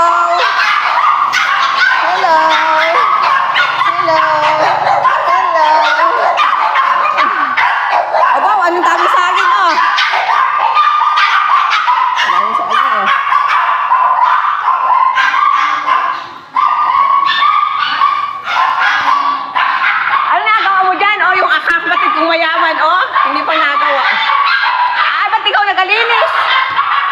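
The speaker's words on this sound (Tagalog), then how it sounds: "Ang dami din ng aso oh." Several dogs bark and yip steadily throughout, with a person's voice briefly greeting over the noisy, busy chorus, in Boac, Marinduque, Philippines.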